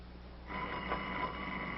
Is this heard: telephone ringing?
yes